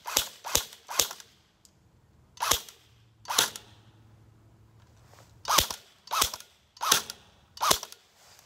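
An M4 pistol fires in semi-automatic, about ten sharp, separate shots in irregular groups with short pauses between, close and crisp, with no talking.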